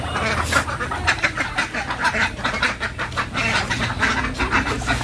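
Ducks and chickens returning home to their coop in a village yard: a busy, close chorus of overlapping quacks and clucks repeating rapidly throughout, with a voice heard faintly alongside.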